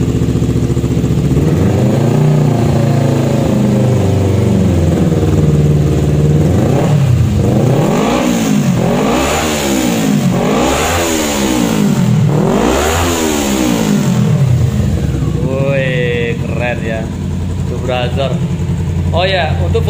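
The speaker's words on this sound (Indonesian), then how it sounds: "Nanti kita sedikit coba gas ya, digeber dikit. Seperti apa suara maksimalnya dia." A modified Kawasaki Ninja ABS Anniversary motorcycle engine idles, then is revved hard several times in a rising and falling rhythm, loud and close, before settling back as someone speaks over it.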